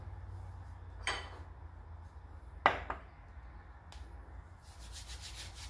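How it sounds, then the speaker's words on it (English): Oiled bread dough worked by hand on a countertop gives a few soft, faint rubbing and squishing strokes, spaced apart over a low steady background hum. "Your hands are better than using the gloves to knead this dough."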